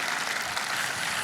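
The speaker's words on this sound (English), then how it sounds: "Can we get a hand clap for some men in here?" A brief, steady patter of audience hand clapping at a guest speaker event, dense and even with no voices over it.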